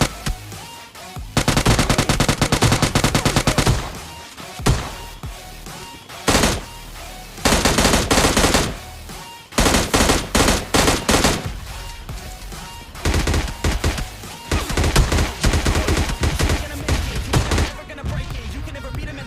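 Shotgun and automatic gunfire in a battle royale game rings out as repeated loud, close bursts of shots separated by short pauses.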